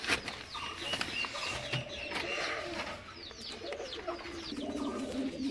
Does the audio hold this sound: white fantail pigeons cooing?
yes